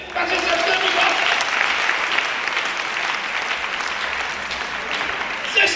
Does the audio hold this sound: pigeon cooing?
no